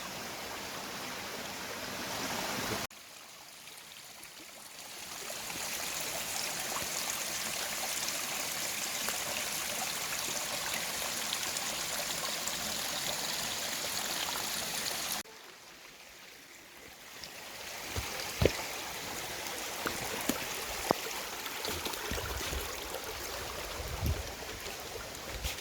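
A river near the base of Mount Taranaki flows with a constant rushing hiss, steady and moderately near, briefly dipping quieter twice as if muffled, with a few small knocks and clicks scattered near the end.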